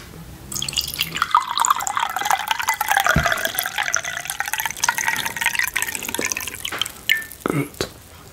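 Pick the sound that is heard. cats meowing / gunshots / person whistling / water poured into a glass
water poured into a glass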